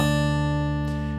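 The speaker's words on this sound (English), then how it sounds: "you're going to start by hitting the 6th and 1st strings together" Acoustic guitar with the 6th and 1st strings struck together at once, ringing in a sustained, bright chord that holds steadily without decay for over a second, clean and close with no talk.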